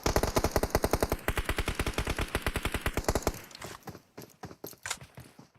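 PUBG Mobile gunfire: a rapid, rhythmic automatic burst of closely spaced loud shots lasting about three seconds, followed by scattered single shots and fainter pops.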